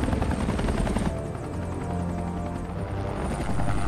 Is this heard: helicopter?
yes